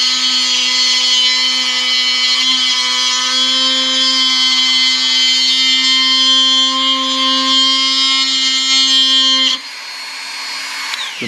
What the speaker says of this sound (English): take a carving burr on a Dremel, and I'm just going to make a little groove right here.